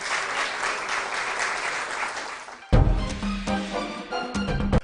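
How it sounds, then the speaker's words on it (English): Audience claps after a school quiz round result, a steady crowded patter for almost three seconds that cuts abruptly into louder music with a heavy beat. "A round of applause"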